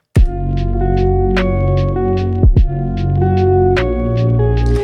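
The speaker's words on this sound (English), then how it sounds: "So now I have this lo-fi track that sounds like this." A mellow lo-fi music track plays, with sustained chords, soft rhythmic percussion hits and a warm, steady groove, loud and close.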